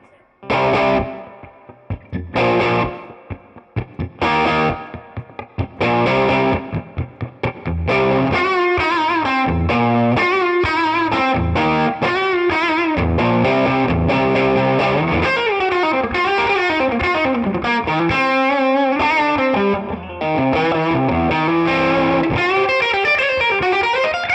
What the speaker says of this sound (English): we're just going to do some rock tones just to show you what this P90 can do